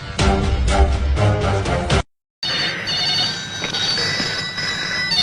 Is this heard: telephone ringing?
yes